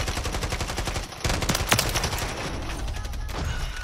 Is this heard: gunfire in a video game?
yes